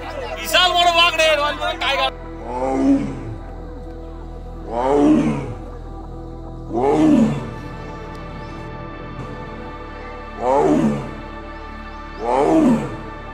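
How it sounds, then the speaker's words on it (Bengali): An angry tiger in the Sundarbans roars repeatedly at tourists on a river launch, five deep drawn-out roars spaced a couple of seconds apart, loud and close, after a brief burst of human voices. "শুনুন কিভাবে গর্জন করছে খেপা বাঘটি"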